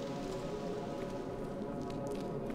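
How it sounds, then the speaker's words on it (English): Steady rain pours down in the Fatal Frame V video game, a continuous dense hiss of drops on surfaces with a low rumbling bed, even and unbroken throughout, with no talking. "we're completely soaked now because of this damn rain."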